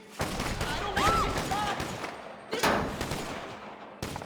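Gunfire in GTA V, several bursts of rapid shots cracking in clusters with short gaps between them, loud and close amid a noisy background.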